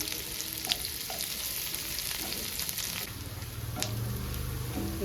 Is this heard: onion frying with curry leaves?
yes